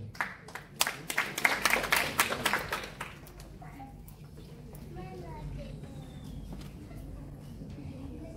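A short burst of audience applause, loud at first and fading out after a few seconds, followed by quieter ambient sound with faint bird calls.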